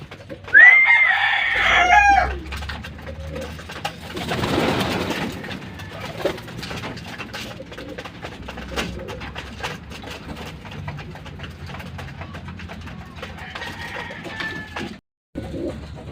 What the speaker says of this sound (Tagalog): Pakainin ko na muna yung mga pang north ko mga kalapatids.